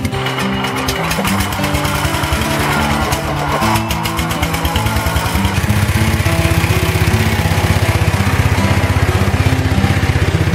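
A Kohler K series small engine runs steadily and close, a loud rumbling drone with a fast regular firing pulse that thickens and grows slightly louder partway through, with no talk over it.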